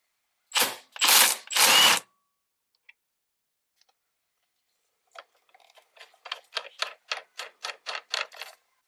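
A stubby ratchet loosens a T55 bolt on a Toyota RAV4 steering wheel: three loud cranking bursts come first, then after a quiet gap a rapid run of sharp clicking pawl ticks, close up.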